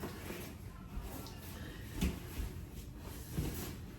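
A broken apartment door is handled with a few soft knocks and thuds, faint and close, with no talking.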